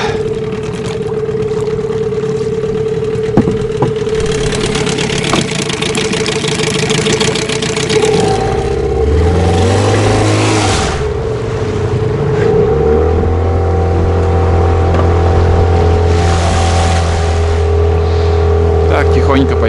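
A small fishing motorboat with a Mikatsu 9.8 outboard motor being run in on a river, a loud close engine hum that climbs in pitch as the throttle opens around the middle, then settles into a steady lower drone.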